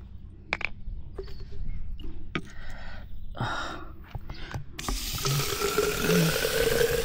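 Water gushes from a tap at Umana Regional Park in New Zealand into a bottle, a steady splashing hiss that starts after a few scattered clicks and handling knocks and grows fuller as it continues.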